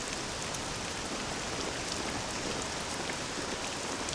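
Rain pours steadily and evenly in a Dragon Quest VII Reimagined scene, a dense continuous hiss with no talk over it.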